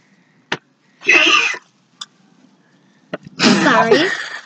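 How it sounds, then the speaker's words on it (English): A dog gives a few short snorting, sneeze-like bursts, followed by a longer wheezy, whining vocal noise, close by in a quiet room. "Sometimes our dog makes funny noise."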